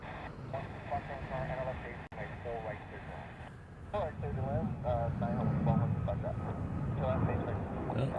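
U-2 spy plane jet passing, its low roar swelling and holding steady in the second half under people talking.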